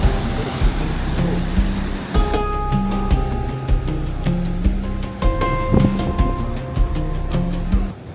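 Wind roars steadily by the ocean in Morocco, buffeting the microphone, with music or tones and the sea audible beneath.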